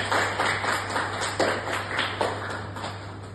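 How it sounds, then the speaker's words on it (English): A round of applause rings out at a leadership program closing ceremony, a moderate crowd clapping steadily with irregular sharper claps standing out, continuous for the whole stretch over a low background hum. "Give them a round of applause."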